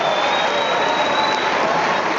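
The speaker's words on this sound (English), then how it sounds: "In the middle of this cheering crowd" Large crowd at the World Barista Championship winners' announcement applauding and cheering, a dense, continuous roar of clapping and voices held at steady loudness throughout.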